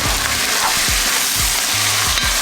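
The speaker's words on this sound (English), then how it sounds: "Now we're adding onions and garlic first. We're gonna let those sweat down a bit." Onions and garlic frying in butter and olive oil for an elk stew give a steady, close sizzle that runs unbroken, with a few low soft knocks of stirring underneath.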